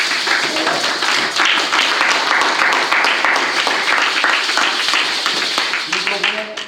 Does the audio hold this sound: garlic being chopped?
no